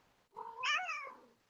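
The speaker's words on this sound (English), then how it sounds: "Yeah, I got a cat." A cat gives a single clear meow, rising and then falling, fairly close and alone against quiet background.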